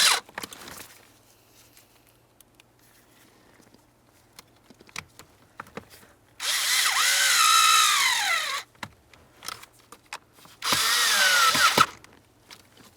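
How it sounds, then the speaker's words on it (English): A power tool whirs in two bursts, about two seconds each, while bolts go in on a 1999-2003 Toyota Solara blower motor, with rising and falling pitch and small clicks and handling noises between. "Now let's go ahead and put in the bolts for this."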